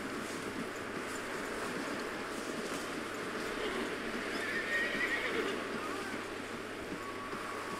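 Horse whinnying and hooves clip-clopping in Red Dead Redemption 2, a continuous game soundscape with a neigh and steady hoofbeats under a low ambient bed, moderately loud and close, with a faint voice nearby.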